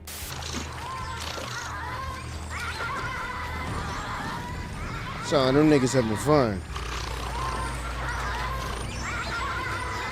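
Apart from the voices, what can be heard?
river otters vocalizing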